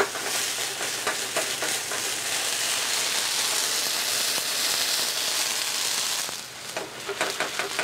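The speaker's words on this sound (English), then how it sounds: "Half a cup of Cabernet Sauvignon. And I'm deglazing the pan." Half a cup of Cabernet Sauvignon hits a hot pan after seabass is seared, setting off a loud, steady sizzle and bubbling hiss that eases slightly near the end, with faint scraping and stirring clicks throughout.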